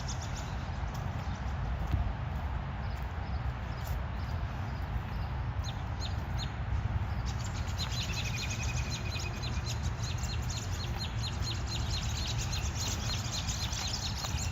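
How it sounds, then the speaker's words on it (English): Birds chirp and chatter in a New York City park, with bright repeated calls rising over a constant low rumble of city and wind noise, moderately faint throughout. "the birds are having a field day"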